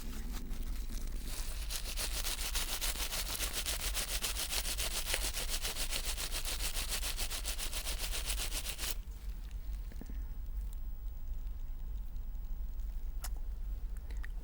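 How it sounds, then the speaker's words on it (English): Steady broadband scratching of a plastic sheet rubbed against the tip of a metal spoon, continuous and close for several seconds before fading into quieter handling noise. "I rubbed this tip of this spoon with the help of this plastic sheet"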